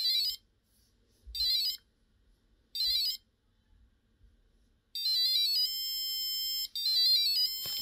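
A passive buzzer driven by an Arduino from an Elegoo starter kit: three short shrill electronic beeps with pauses, then a longer run of shrill tones changing pitch, close and clear with no talking.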